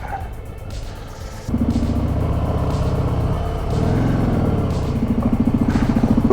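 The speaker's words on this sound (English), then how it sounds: "the heroic Harley struggled getting up the hill there, off first gear" A Harley motorcycle labors up a muddy hill road in first gear, its engine pulsing with a steady, loud chugging rhythm that swells and strains as it climbs, close and continuous without speech.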